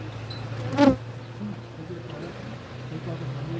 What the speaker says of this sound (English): Killer bees are honeybees. They're really aggressive honeybees. And this is a pretty mean hive.